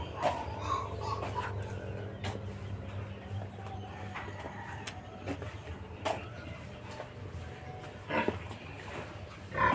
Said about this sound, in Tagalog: Another update sa mga alaga na baboy.